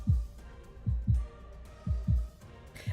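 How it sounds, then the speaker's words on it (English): A heartbeat sound effect in the video game Love and Deepspace: deep, muffled thumps in lub-dub pairs, three double beats at a steady, fairly quick pace, close and prominent. "My heartbeat is all I can hear"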